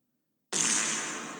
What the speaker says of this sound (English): Was that a fart noise?